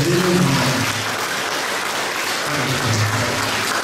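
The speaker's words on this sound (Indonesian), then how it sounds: "banyak aplaus sebagai bentuk penghargaan" An audience at a church farewell gathering of HKBP Cilincing applauds Pak Kuasin with a loud, dense, steady clatter of hands that fills the whole stretch, with faint voices beneath it.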